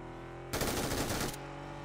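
A grenade blast in the game PUBG, a single loud burst of roughly a second that starts abruptly and then tails off over low steady background noise.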